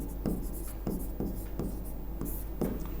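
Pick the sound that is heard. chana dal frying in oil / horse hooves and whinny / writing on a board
writing on a board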